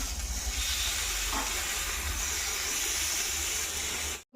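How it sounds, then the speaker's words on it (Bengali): Potatoes and eggplant frying together in a pan give off a steady, close hiss of sizzling oil that runs without a break, then cuts off abruptly at the end. "ওই জন্য এখানে হচ্ছে একটু আলু ভেজে দিচ্ছি, আর এদিকে হচ্ছে বেগুন ভাজছি।"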